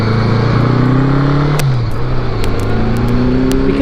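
A motorcycle held at full throttle in second gear on a freezing day, its loud engine droning steadily near the microphone with a brief pitch dip midway, then pulling strongly again, with faint clicks over the roar.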